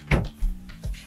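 Drawer opening aboard an Azimut Atlantis 58 yacht, a few close wooden knocks and sliding bumps in quick succession.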